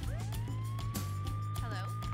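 An ambulance siren in a cartoon sounds as a single rising wail that holds steady over a low drone, with a voice speaking underneath.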